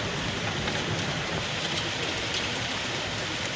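Hail pelting down outdoors during a storm, a dense, steady hiss of countless impacts without pause, loud and close, with no voices.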